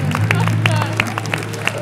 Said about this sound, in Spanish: fuerte el aplauso para nuestra última concursante